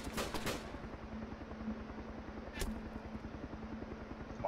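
Gunfire in the survival video game DayZ: a quick burst of shots at the start and a single sharp report a couple of seconds later, faint over a low steady background.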